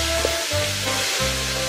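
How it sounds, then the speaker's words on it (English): Bolognese mince browning in a hot pan makes a loud, steady sizzle that runs throughout, with a low hum pulsing underneath and no talking. "So you can see the meat is browning."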